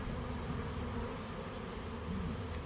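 Bees swarming around a swarm board, a dense steady buzz heard close and continuous, with no voices.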